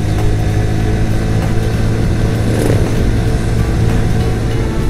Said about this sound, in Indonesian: saya udah pakai knalpot ori lagi nih. Tarikannya beda bro.